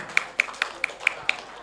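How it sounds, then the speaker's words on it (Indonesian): Six crisp, evenly spaced claps ring out, close and sparse, welcoming Gus Ali, the village head of Putat, at a World Tuberculosis Day talk show held by the Sidoarjo district health office in Tanggulangin. "Tepuk tangan untuk Gus Ali."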